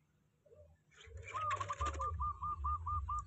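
A perkutut (zebra dove) coos in a repeated, evenly spaced series of soft rounded notes, close and fairly loud, over a low background rumble.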